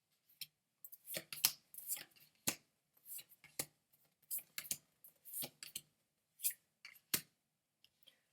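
Tarot cards are shuffled over and over in short papery bursts of riffling and slapping, close and fairly soft, with brief pauses and no talking.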